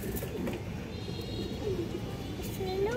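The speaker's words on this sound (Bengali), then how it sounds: "একটা মাদি কবুতর মাশাআল্লাহ" A female pigeon at a busy pigeon market coos softly, a few low murmuring calls sitting under steady crowd noise and nearby chatter.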